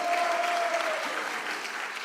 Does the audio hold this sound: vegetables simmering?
no